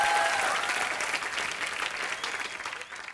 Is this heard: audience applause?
yes